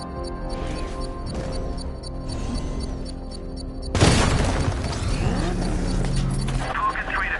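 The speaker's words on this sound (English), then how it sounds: "There's a militia explosion embedded in the train yard." Explosion at a train yard in Batman: Arkham Knight, a sudden loud boom and crash midway that cuts through game ambience and music, followed by rumbling debris and lingering noise, with voices speaking around it.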